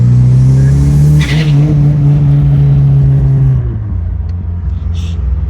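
A turbocharged Scion FR-S or Subaru BRZ engine roars loudly as it accelerates under boost, its pitch climbing steadily before easing off, with a hissing whoosh as the throttle lifts.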